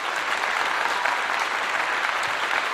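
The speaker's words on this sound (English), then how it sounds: "Let's give her a clap." A live audience claps in a steady burst of dense, even applause that lasts the whole stretch, with no voices standing out.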